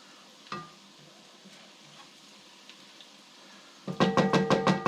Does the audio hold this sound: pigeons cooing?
no